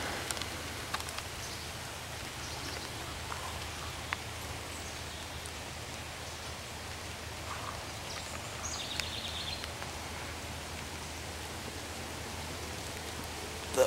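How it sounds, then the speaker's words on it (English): Steady rain patters and hisses all around, a soft even wash with occasional louder drips, no voices. "But it's raining right now"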